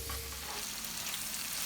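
Fish frying in a pan with onions and peppers, a steady broadband sizzle holding close and even throughout with no voices.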